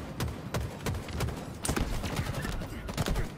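Rapid video game gunfire crackles through a Strongholds match on the Plaza map, dense overlapping shots and bursts hammering continuously at close range for the whole stretch.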